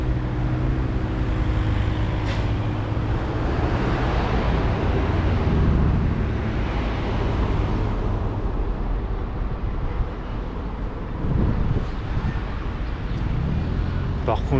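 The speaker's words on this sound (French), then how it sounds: "Par contre je vous dis pas la circulation" City road traffic in Geneva, a continuous wash of passing cars and roadway rumble heard close by over wind buffeting, with people talking intermittently throughout.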